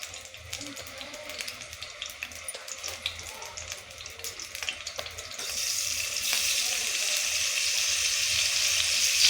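Paneer frying on full heat in hot oil in a pan, a steady close crackling sizzle that grows louder and denser toward the end, with no talk over it.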